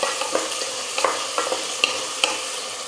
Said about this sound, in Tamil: இது கூடவே 2 பச்சை மிளகாய் சேர்த்துக்கிறேன். வெங்காயம் ஒரு 2 நிமிஷம் நல்லா வதங்கட்டும்.